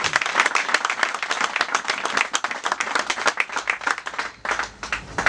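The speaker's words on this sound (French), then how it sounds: "Je vous demande donc d'applaudir à nouveau cette liste que Nazer nous a présentée." An audience at a campaign meeting in Akanda applauds an election list, close and loud, with individual claps standing out in a brisk, irregular rhythm. The clapping dips briefly near the end, then picks back up.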